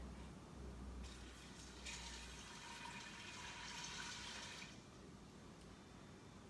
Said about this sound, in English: So next we're going to add our water.